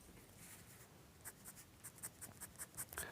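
A pencil shading on paper, soft scratchy strokes growing into a run of quick, regular rhythmic scribbles, quiet and close with no voices.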